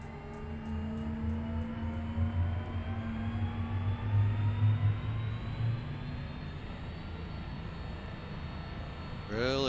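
A Cessna 208B Caravan turboprop starts up in the X-Plane 11 flight simulator, a loud steady drone with a slowly rising whine as the turbine spools, holding for several seconds before a brief shift near the end.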